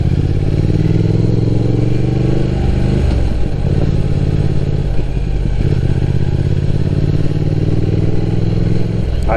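A motorcycle ridden along a small, narrow, twisty road near Lake Sagami in Japan, its engine loud and steady with rising and falling revs through bends, constant wind rumble underneath.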